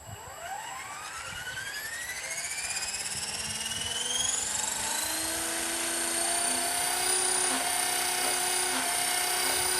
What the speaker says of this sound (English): let's give it the very first spool up since we put this helicopter together